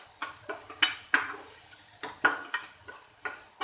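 Onions sautéing in a pan for a cottage cheese biryani: a steady soft sizzle with sharp utensil scrapes and clinks against the pan at irregular intervals, close and fairly loud, no talking.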